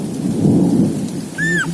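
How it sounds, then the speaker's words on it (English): Thunder rolls loudly through a heavy thunderstorm in Ireland, a deep rumble over steady rain, with a brief high tone near the end. "Now, this is my second time seeing a thunderstorm."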